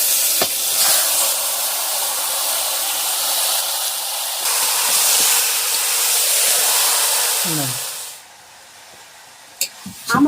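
Marinated chicken hits browned fried onions in a hot pan, raising a loud, broad sizzle that holds for several seconds, then drops away, followed by a few light clinks of utensils.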